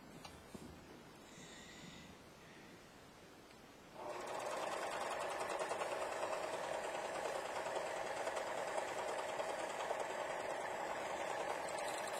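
A Singer 14SH654 Finishing Touch serger flatlocking fabric: after a few seconds of quiet handling, the machine starts and runs in a steady, loud, fast mechanical whir up close.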